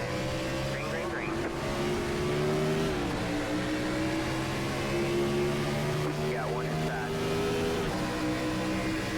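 Several NASCAR Gen 4 stock cars at Pocono in iRacing drone loudly through a restart, engine notes rising and shifting as the pack bunches up, with a voice talking over the roar.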